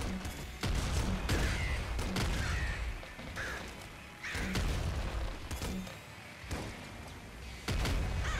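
Repeated heavy blasts and bursts of weapon fire in the video game Nuclear Throne, in quick clusters, each a sharp loud crack with a rumbling tail, separated by brief lulls.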